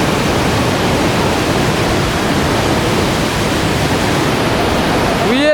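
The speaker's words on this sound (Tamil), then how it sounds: "குற்றாலத்தில் வர தண்ணி எவ்வளோ வேகமாக வருது மட்டும் பாருங்கள்" Rushing water at Courtallam waterfall in flood, a loud, steady broadband roar that holds unbroken and close throughout, with a brief rising tone near the end.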